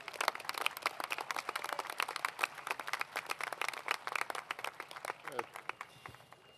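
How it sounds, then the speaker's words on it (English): An audience at a 2012 commencement ceremony breaks into sustained, dense applause, many hands clapping steadily for several seconds before it thins out near the end. "Please join me in warmly applauding the many fine accomplishments of Dr. Tongtiraj"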